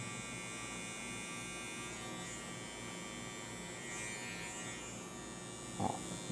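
Electric hair clipper giving a child a traditional boys' haircut, a steady close buzzing hum that runs throughout with a brief rustle near the end.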